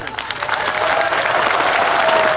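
Applause from an audience at a statue unveiling ceremony in Rajasthan, a dense steady clapping that swells and holds at a loud, even level for a couple of seconds with no speech over it.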